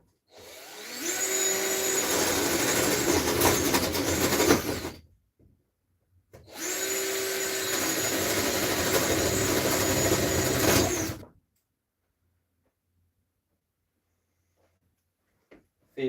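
A power tool cuts through wall paneling during a room remodel, running loud and steady in two long bursts of about five seconds each with a short pause between them. Silence follows the second burst. No one speaks.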